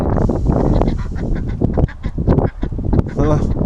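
Ducks in a pen quack and honk in a steady, busy chorus throughout, close and loud, with several birds calling over one another.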